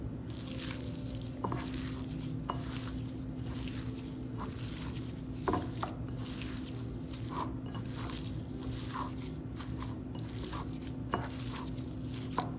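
Mashed potatoes being kneaded by hand in a bowl for Kolkata-style fuchka, a soft, steady squishing and patting with occasional light clicks against the bowl, over a constant low background hum.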